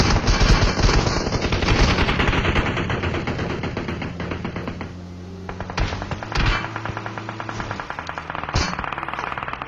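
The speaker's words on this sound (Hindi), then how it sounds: "फिलहाल यहाँ पे जो है वो फायरिंग तो बहुत गंदी कर रहे थे" Enemy automatic gunfire in the battle royale game PUBG, from DP and M4 rifles, crackles in loud rapid bursts that fade and return across the span, with no speech.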